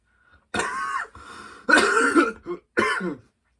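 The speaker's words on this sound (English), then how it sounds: "I got a little dry cough." Several dry coughs up close, in three short bursts with brief pauses between them, with no talking.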